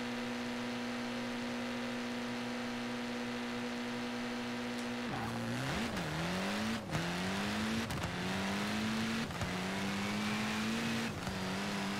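Racing car engines from the Forza Horizon 4 game: a steady idle hum, then a sharp launch into repeated rising revs, with the pitch climbing and dropping at each gear shift, loud and sustained and with no voices.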